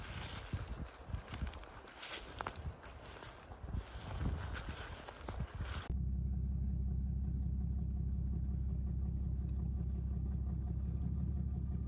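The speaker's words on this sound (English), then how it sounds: "We'll get this truck turned around and pointed back to the house." Truck engine idling at a steady low rumble on a farm plantation in New England, preceded by a noisier stretch of rough driving and rattling as the vehicle turns around, then a constant close drone with no talk.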